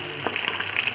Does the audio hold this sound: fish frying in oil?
yes